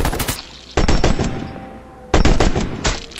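Bursts of Marauder rifle fire in the video game H1Z1 on PS4, two loud volleys of rapid automatic shots roughly a second apart, separated by a short lull, with no talk.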